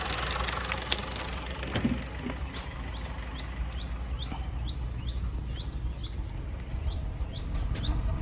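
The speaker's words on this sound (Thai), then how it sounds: "เดี๋ยวเราไปฟังเสียงท่อกันนิดนึงครับ" A Honda City running on CNG, stumbling from faulty gas injectors, idles at the exhaust with a low, uneven rumble and faint knocking, while birds chirp repeatedly in the background.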